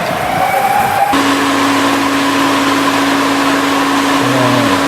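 A dump truck and an asphalt paver roll onto a night road repair site, giving a loud, steady engine drone with a sustained tonal hum that shifts pitch partway through.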